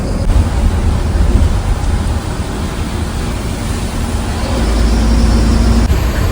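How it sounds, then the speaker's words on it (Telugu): Heavy monsoon rain during a sleeper bus journey from Mumbai to Goa is a loud, continuous broadband roar mixed with engine rumble, steady throughout with no speech. "ఈ వర్షం అయితే కంటిన్యూగా పడుతూనే ఉంది"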